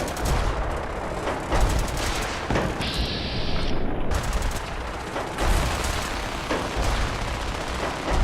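Gunfire rattles in Fallout 4, with dense bursts of rapid shots and sharp cracks that come in clusters, pause briefly for a thinner high hiss, then resume loud and close.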